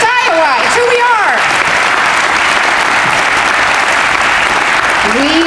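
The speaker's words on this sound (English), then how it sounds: "yes, you should clap for that" An audience bursts into loud, sustained clapping at a grand opening event, while a voice talks briefly at the start and end over the applause.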